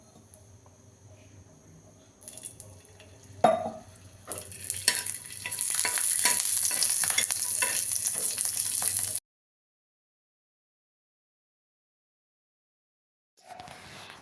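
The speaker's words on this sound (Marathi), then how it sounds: "त्यामध्ये लसूण टाकूया थोडं, त्याच्यातच आलं फ्राय करू." Garlic and ginger fry in a pan with whole spices such as cardamom. A quiet start builds into a loud, crackling sizzle with spatula taps, then cuts to silence and returns faintly near the end.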